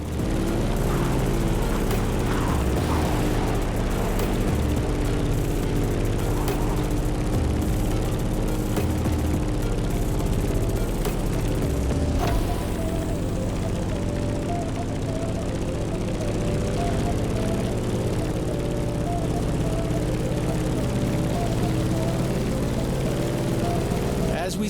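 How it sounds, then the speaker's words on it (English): A Grumman F8F Bearcat propeller plane in The Crew Motorfest drones in a loud, continuous engine roar throughout, with a voice talking over it. "In the cockpit of a stunning Grumman F8F Bearcat, or simply the Bear."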